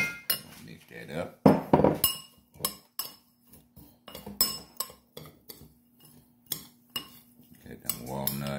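A spoon clinks and scrapes against a bowl while walnuts, cinnamon, brown sugar and half a teaspoon of cocoa powder are mixed for a pound cake, with irregular close knocks and rattles and brief pauses between strokes.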